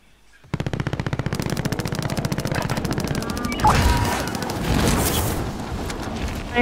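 Rapid, sustained machine gun bursts in Call of Duty: Modern Warfare (2019), loud and close, starting after a brief quiet moment and continuing with heavier blasts and crashes layered over the rattling fire.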